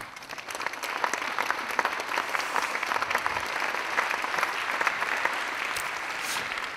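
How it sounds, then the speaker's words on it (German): An audience at the Leibniz festival in Bonn gives a German entertainer a sustained round of applause, many hands clapping densely and evenly, moderately loud, with no voices over it. "vielen Dank für diesen frenetischen, überfallartigen Applaus."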